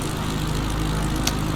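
An Icon light aircraft in flight over Alaska, heard as a loud, close, unbroken propeller engine drone with a steady low throb throughout and no voices.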